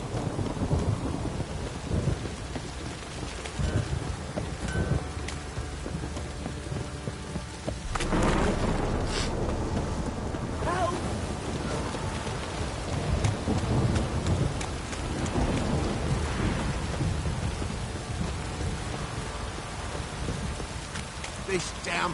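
Steady heavy rain pours throughout while thunder rumbles and cracks now and then, a sustained stormy downpour in The Witcher 3.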